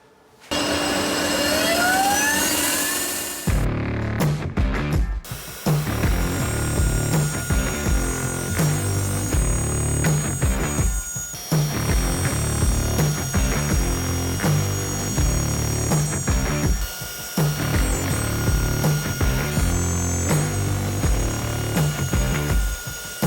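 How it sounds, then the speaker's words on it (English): Loud, continuous machining whine from a CNC router cutting MDF sheets, steady grinding with brief pauses and shifting pitch as the bit moves. "put the sheets on the CNC router and get them machined up"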